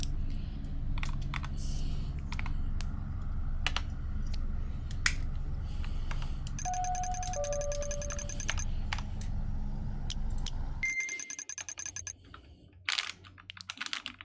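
Rapid typing on a mechanical keyboard with crunchy-sounding keycaps, a dense run of close, clicky keystrokes over a low background hum, with occasional tonal beeps mixed in and a few scattered clacks near the end.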